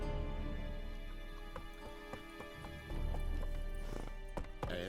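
The horse Roach in the game Witcher 3 clip-clops along, with steady hoofbeats under a constant hum of game music and ambience, growing a bit busier toward the end.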